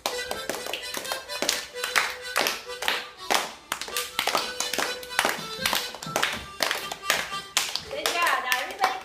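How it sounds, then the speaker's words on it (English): An audience at a children's Pinocchio storytelling event claps along with music, sharp rhythmic handclaps landing in a steady beat over the tune for several seconds. "All right, clap everybody to the music."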